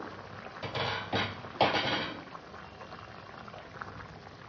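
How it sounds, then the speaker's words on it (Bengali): Fish curry with potato and cauliflower bubbling under a lid, a close, steady boil with a few louder surges of liquid and lid noise early on before settling to a softer simmer. "এটা আমি ঢাকা দিয়ে সুন্দর করে ফুটিয়ে নেব"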